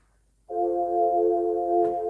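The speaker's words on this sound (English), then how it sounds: "If you want to hear a vibrato sound, it sounds like this." A sustained keyboard tone with a gentle vibrato wobble, holding steady for under two seconds after a short silence, clear and alone.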